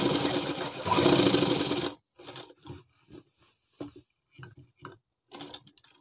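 Sewing machine running a straight seam on a girls' school dress, a dense steady whirring burst for about two seconds that stops, followed by sparse light ticks and fabric handling.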